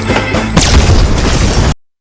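A grenade detonates inside a billiard room in the film The Continental, a loud, sudden boom with crashing debris that swells and sustains before cutting off abruptly.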